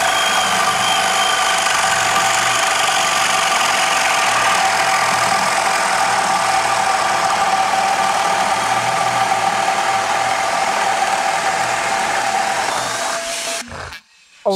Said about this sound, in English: We're going to drill a hole and see what it does.